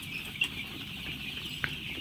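Fourteen-day-old Sonali super hybrid chicks in a poultry shed make a steady chorus of soft peeping and clucking, with a couple of brief sharper calls standing out, moderately close and with no talking.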